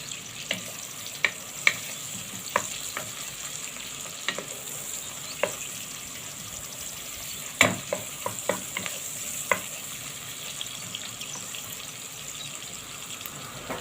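Onions being stirred and softened in a pan for a beef biryani: a steady low sizzle throughout, with scattered spoon scrapes and taps against the pan, one louder knock near the middle.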